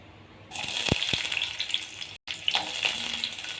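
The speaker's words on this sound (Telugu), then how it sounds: "ఆయిల్ హీట్ అయింది, ఇప్పుడు ఆనియన్ వేసుకున్నాము." Onions land in hot oil and break into a loud, crackling sizzle that carries on close and steady, with one brief dropout and no talking.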